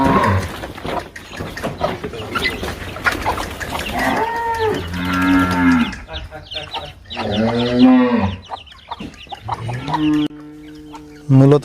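Chickens on a small backyard farm cluck in short bursts, mixed with loud, drawn-out cattle moos close by, along with some scattered quieter calls.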